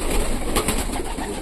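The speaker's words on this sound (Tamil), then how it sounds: "நிறைய புறாக்கள் இருக்குது" Pigeons coo steadily in a loft cage, a close, continuous low burbling from several birds with no talk over it.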